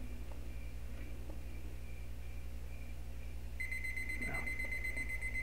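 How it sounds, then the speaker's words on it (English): A timer alarm goes off in the Trader Life Simulator video game, a bright repeating electronic beep that starts partway through and continues steadily over a low constant background hum. "There goes the timer."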